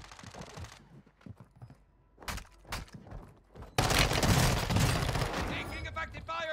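Call of Duty: Warzone 2 combat: scattered sharp shots crack out against quieter game sounds, then a loud, dense stretch of continuous automatic gunfire takes over and carries on to the end.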